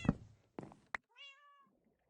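Minecraft cat meowing close and clear, a single drawn-out meow following a few soft thumps and taps, then quiet.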